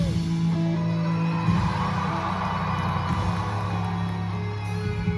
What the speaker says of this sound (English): I gave this clip a cheer duration of roughly 4 seconds